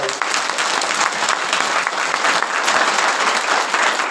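A crowd of devotees at a Mahanubhav padyatra gathering in Parbhani claps for the women who sang a welcome song, steady dense applause holding at an even level for the full stretch, close and loud with no talking.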